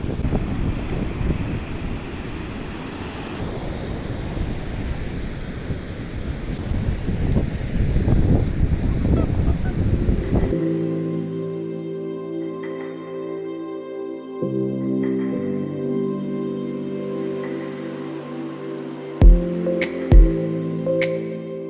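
Strong sea wind on the Odesa coast buffets the microphone with loud gusty rumble for about ten seconds, then gives way to a quieter steady background.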